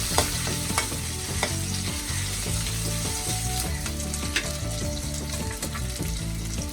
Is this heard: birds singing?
no